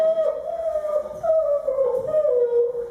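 A voice imitates a sad dog, holding a long, wavering howl that rises and falls steadily for several seconds.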